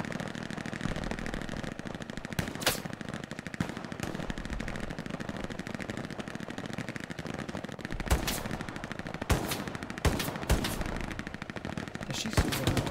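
Gunfire in the World War II shooter Hell Let Loose on the Utah Beach map: a constant rapid machine-gun rattle runs throughout, with louder individual shots cracking out near the end and a faint voice now and then.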